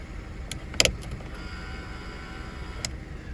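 Electric windows on a 2011 Vauxhall Corsa 1.2 Excite whir faintly and steadily while a few sharp clicks and knocks from switches or the door stand out near the start, all heard close up inside the car.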